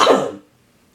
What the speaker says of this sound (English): sorry, still have that weird cough